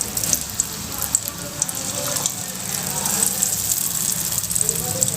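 Food sizzles in hot oil in a pan, a continuous crackling hiss with small pops scattered through it. It keeps a close, steady level and grows slightly fuller toward the end.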